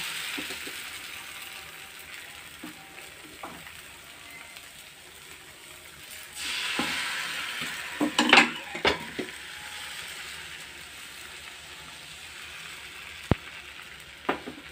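Goan polle batter sizzling and frying on a hot tava, a steady soft crackle with a louder burst of hiss partway through and a few sharp clinks of utensils, close and alone.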